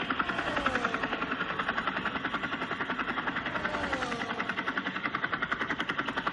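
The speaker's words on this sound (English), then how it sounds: "low helicopter shot here" A low-flying helicopter in F1 24 gives a steady rhythmic rotor chop with a constant engine drone, fairly close and continuous throughout.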